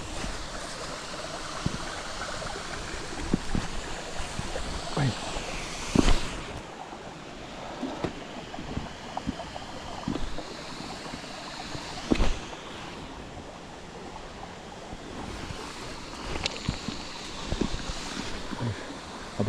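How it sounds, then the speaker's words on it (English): A babbling brook in a forest runs steadily close by, its continuous rushing water overlaid with occasional bumps and thuds from movement nearby. "The babbling brook."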